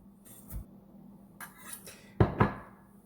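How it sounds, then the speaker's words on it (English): Knife chopping and mincing on a cutting board in a home kitchen, a few scattered light taps followed by two sharper, louder knocks close together near the end, with no talking. "I can turn my entire board and then just start chopping in the other direction"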